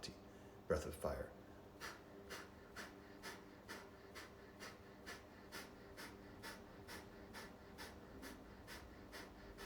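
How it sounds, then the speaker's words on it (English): Rhythmic Kapalabhati breath of fire during a guided meditation: a steady train of quick, sharp exhalations repeating about twice a second, fairly faint and close, with a brief louder stir near the start. "Keep lifting the crown of the head to the sky while you perform Kapalabhati, breath of fire."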